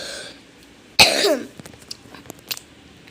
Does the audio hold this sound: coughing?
yes